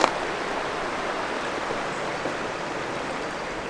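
Steady rushing of a river in central Portugal, a constant broadband wash of water with no voices, close and even throughout.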